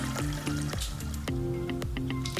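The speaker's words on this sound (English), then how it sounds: "Slime waterfall, guys." Clear slime pours and slides down in a thick waterfall, giving a steady wet trickling stream with repeated soft plops and drips, close and continuous, with no talking.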